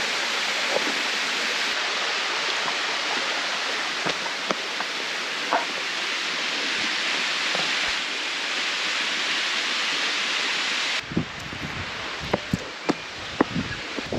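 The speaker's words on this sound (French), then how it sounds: "on arrive enfin à la cascade" Alligator Falls in Australia pours in a steady, broad rush of falling water, constant and fairly close, with a few brief clicks and knocks near the end.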